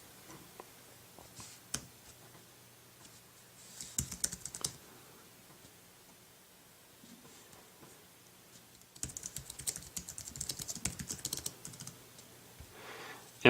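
Keys click on an Apple iPad keyboard dock being used with an iPhone 3GS, a quiet tapping heard in short bursts with pauses between them and a denser stretch of typing toward the end.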